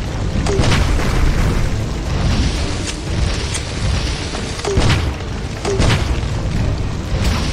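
Grenades explode in the video game Heaven Dust 2, giving several heavy booms at irregular intervals over a dense, rumbling game soundscape, with no one talking.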